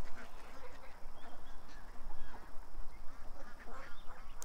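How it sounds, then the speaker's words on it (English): Several ducks quack and honk together in a yard, a busy, continuous overlapping chatter of calls close by with no talking. "The ducks are chilling here."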